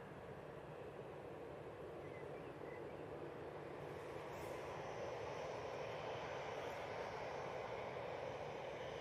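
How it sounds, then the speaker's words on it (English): Boeing Dreamliner airliner at Manchester Airport bound for Doha, a steady distant jet engine roar that swells slightly as it goes, heard outdoors with no talking. "I hope you enjoyed that Dreamliner."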